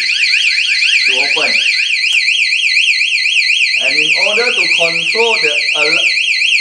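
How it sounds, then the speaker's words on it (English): A loud, piercing electronic siren from a wireless GSM alarm padlock warbles continuously, rapidly sweeping up and down in pitch, while someone talks over it. "Within 2 seconds, this alarm padlock also will sound."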